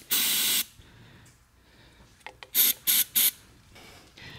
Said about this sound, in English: So I'm gonna put a little lubricant on the cylinders.